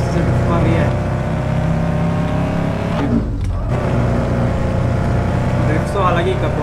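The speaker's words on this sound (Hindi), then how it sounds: "बस, स्मूथ सा साउंड है, कुछ इंजन में वाइब्रेशंस भी आ रहे हैं।" An Audi Q7 diesel engine in the Car Sale Simulator game drones steadily with a rough, vibrating rumble and brief revving swells, while someone talks over it.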